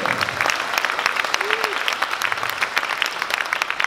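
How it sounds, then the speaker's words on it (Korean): Applause from attendees at a Christian leaders' forum: brisk, continuous clapping at close range, loud and even throughout. "박수 한번 쳐주실까요?"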